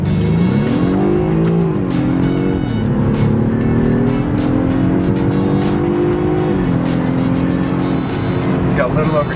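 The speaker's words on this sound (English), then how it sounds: "we're gonna do a highway pull to see how powerful it actually is" A 2015 BMW 328i xDrive in sport mode accelerates hard on a highway, its engine note climbing steadily and dropping at two gear shifts, loud and continuous from inside the car.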